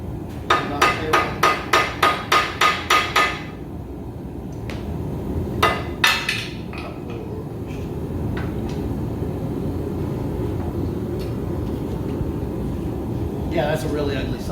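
A hammer strikes hot metal while forging a blade socket, about ten quick, evenly spaced ringing blows, then a few scattered hits over a steady hum of machinery in the workshop.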